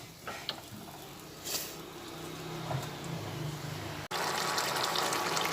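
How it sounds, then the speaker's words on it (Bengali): Water runs into a cooking pan of dal with egg fritters over a gas flame, a steady gushing pour that cuts off abruptly, then returns louder and brighter. "অল্প পরিমাণে জল দিলাম"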